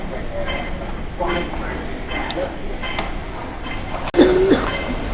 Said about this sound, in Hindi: अभी बस हमारी ट्रेन आ गई है